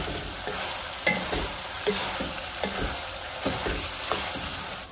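Beef and potatoes browning and sautéing in a pan for Tex-Mex carne guisada, with a dense, loud sizzle throughout and repeated rhythmic spatula scrapes about every half second, close up and without talk.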